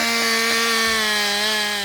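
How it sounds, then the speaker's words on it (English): A chainsaw carving wood runs loud and steady, its engine holding a continuous high whine with a strong buzzing hum throughout. "this chainsaw becomes an artist's primary tool"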